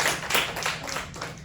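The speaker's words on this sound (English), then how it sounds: "Let's all clap so the security knows it's not like a gunshot" An audience claps together in a brief, dense burst of applause, fairly close and steady, with no talking over it.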